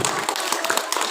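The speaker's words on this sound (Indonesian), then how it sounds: "tepuk tangan teman-temannya" Schoolchildren in a classroom clap for their classmates, a dense, close patter of many small hands sustained throughout the brief moment.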